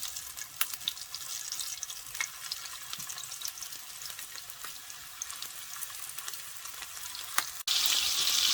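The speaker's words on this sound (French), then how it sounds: "Une fois l'huile bien chaude, je vais faire revenir les boulettes de viande." Meatballs sizzle and crackle in hot oil in a pan, a steady dense frying hiss with a few sharper pops, growing louder and brighter near the end, with no talking.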